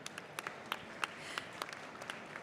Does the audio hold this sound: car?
no